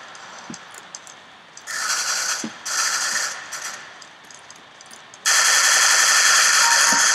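Galil assault rifle sprayed in full-auto bursts in Counter-Strike: Global Offensive, with two short rattling volleys followed by a longer sustained stream of rapid gunfire close up.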